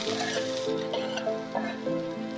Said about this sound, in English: now my pan is hot. I'm going to add my onions.